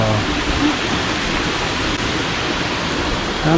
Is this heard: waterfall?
yes